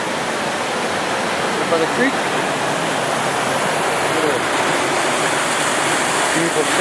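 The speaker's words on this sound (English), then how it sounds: "Beautiful set, cascade." A mountain creek cascade in the Great Smoky Mountains rushes in a dense, loud, continuous roar of falling water, close by and unbroken throughout.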